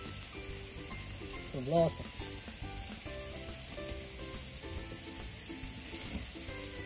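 Steak frying in a pan at home, a steady close hiss of sizzling fat running throughout, with a brief spoken word and some background voices and tones underneath.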